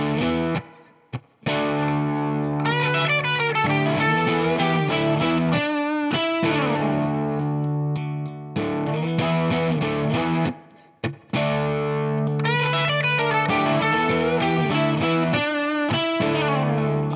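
A distorted electric guitar plays a repeating blues-rock lick, loud and sustained, with the phrase coming around twice and short pauses between.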